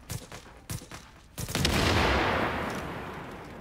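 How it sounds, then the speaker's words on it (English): Gunfire in The Division's Dark Zone, with several sharp, close shots in quick succession, then a loud explosion that swells and rumbles away slowly. "Maybe that'll make a nice explosion if I shoot it."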